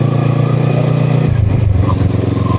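A Kawasaki ER6N parallel-twin motorcycle engine drones steadily and loudly while ridden on the road toward Jatiluwih, its pitch dropping partway through as the rider shifts or eases off.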